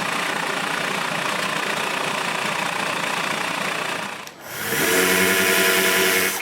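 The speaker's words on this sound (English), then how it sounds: "I drill the hinges holes." A 35mm bit drills hinge holes in a wooden bathroom towel cabinet door, a steady loud whirring grind with a short dip partway through before the cutting resumes with a strong tonal hum.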